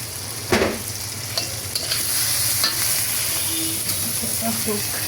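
Shrimp and potato chips frying in hot oil, giving a steady dense sizzle and hiss throughout, with occasional scrapes and clinks as they are stirred in the pan.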